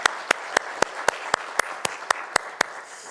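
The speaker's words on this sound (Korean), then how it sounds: "하나님 앞에 영광의 박수 올려드리겠습니다." A church congregation claps in unison during a Sunday service, sharp and evenly spaced, about a dozen claps at a steady rhythm.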